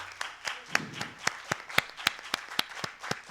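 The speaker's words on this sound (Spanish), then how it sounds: "Un aplauso, por favor." Scattered applause from a small audience at a library book-talk event in Congress, about a dozen distinct sharp claps at an uneven rhythm, fairly close and moderately loud.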